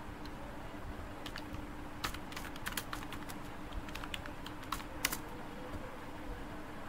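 Rapid, irregular clicks of fingers typing on a computer keyboard during a seminar on ChatGPT and AI tools, heard alone over a steady low room hum with a few sharper keystrokes.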